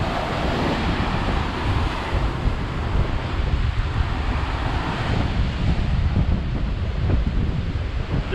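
Typhoon winds on a seaside road in Macau, heavy gusts buffeting the microphone over a steady roar of crashing sea waves, loud and continuous with no talk.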